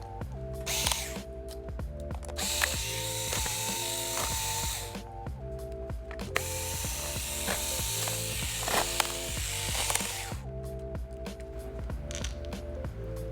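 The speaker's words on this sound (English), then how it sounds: "take all the screws out of the bottom cover" Screws being backed out of the bottom cover of an HP Chromebook 14 G7 with a ratcheting driver, close, repeated mechanical clicking in runs separated by short pauses.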